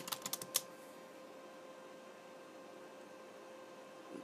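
Several quick keystrokes on a computer keyboard, close and clicky at the start, then a faint steady background hum.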